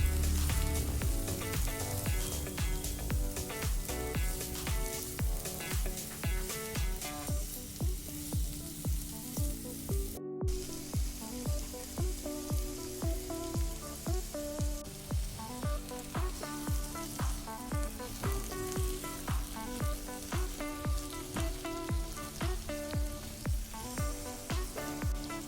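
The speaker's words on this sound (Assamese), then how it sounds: "মাশৰুমখিনি তেতিয়ালৈকে ভাজিব লাগিব যেতিয়ালৈকে ইয়াৰ কালাৰটো অকমান চেঞ্জ হৈ নাযায়" Mushrooms fry in a pan, a dense steady sizzle with a rapid, regular crackle running continuously close up, broken by one brief silent gap near the middle.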